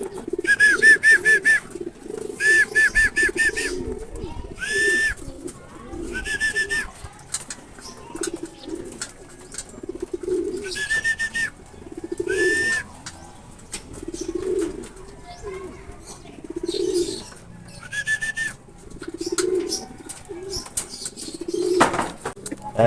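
Racing pigeons arrive at a loft during a race, with repeated bursts of wing flapping and low cooing close by, and people talking intermittently in the background.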